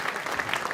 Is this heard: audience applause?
yes